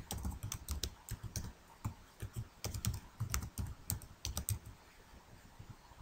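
Rapid, irregular clatter of keys on a computer keyboard as a Google password is typed, close and fairly quiet, with short pauses between bursts and no voices.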